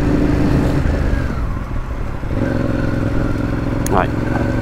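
Scooters riding in a bus lane in traffic, with motor engines droning close by and a rising rev near the end, heard from a bicycle amid busy street noise.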